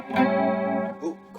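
A sustained chord from a Stratocaster-style electric guitar with a shimmering, doubled chorus tone rings out loudly, then a brief second strum follows near the end.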